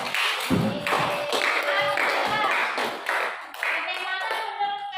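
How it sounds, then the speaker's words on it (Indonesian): A classroom of students claps for a student group after its presentation, giving a dense patter of hand claps that overlaps with people talking and some higher-pitched voices. "tepuk tangan dulu untuk kelompok Sidik."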